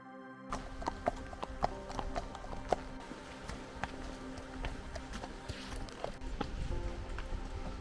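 A horse walks along a path in Brechfa Forest, its hooves clip-clopping in a steady, fairly close rhythm over faint background noise.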